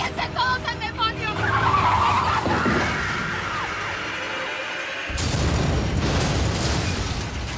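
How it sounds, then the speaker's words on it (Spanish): A car skids off the road and explodes in a dramatic television scene, tire screech and engine noise giving way to a loud burst and roaring fire, with music and voices over it. "El auto que estaba manejando su esposa se salió de la carretera, hizo explosión y se incendió."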